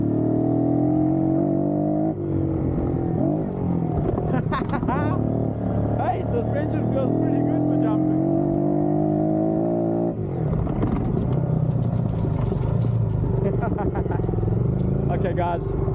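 A Kawasaki KLX 110 dirt bike engine, freshly revived, runs nearby with a buzzy idle that is blipped up and down, while someone talks over it.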